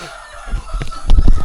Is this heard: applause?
no